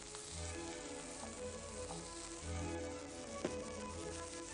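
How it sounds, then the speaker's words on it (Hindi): Green chilli, finely chopped French beans and peas sauté in a hot pan, giving a steady, even sizzle that stays fairly constant, with a slight swell midway and a single faint clink. "इन सब चीजों को भून लें आप, ताकि जो फ्रेंच बीन्स हैं वो कच्ची नहीं रहें।"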